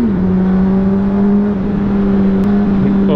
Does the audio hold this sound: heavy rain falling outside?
no